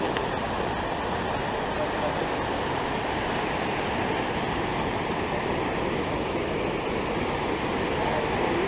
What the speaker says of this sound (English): El Diablo River.